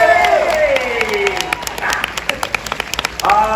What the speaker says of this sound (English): how about a big round of applause for the birthday girl, Christy!